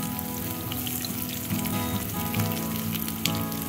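Chopped onions hit a hot pan with browned garlic and ginger and fry loudly. The sizzle is dense and continuous at close range, with no talking.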